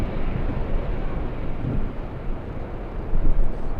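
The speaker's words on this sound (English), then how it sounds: "That is American 26 flying in from Haneda. A 787-9 Dreamliner." An American Airlines Boeing 787-9 Dreamliner lands at LAX, heard as a steady, heavy low roar with wind buffeting on the microphone, swelling slightly toward the end.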